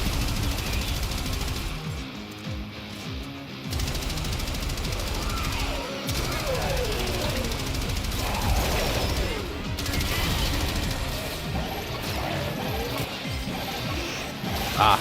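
Rapid gunfire blasts at growth in the video game Warframe, dense and continuous over a loud mix of crashes and game effects for the whole stretch, with a voice talking underneath.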